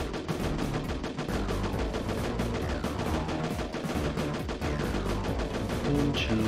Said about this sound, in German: Und schießen wir einfach mal.